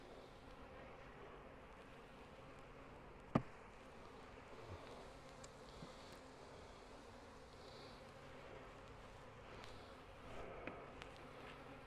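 Honey bees hum faintly around an apiary hive while a colony split is made with a Caucasian queen, a soft steady buzz close by, broken once by a sharp click and a few light knocks, with no speech.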